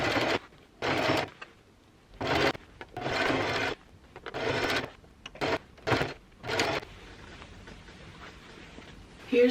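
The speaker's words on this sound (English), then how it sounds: "And then I'm gonna do a top stitch going around the entire thing." A sewing machine top stitching around a dress made from a thrifted blanket runs in loud close bursts of rapid whirring, stopping and starting several times with short pauses between.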